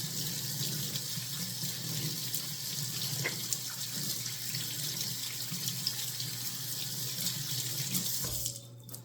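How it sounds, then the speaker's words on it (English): Tap water runs steadily into a kitchen sink while hands are washed beneath it, a constant close splashing hiss that cuts off abruptly near the end. "Just washing my hands here for a minute."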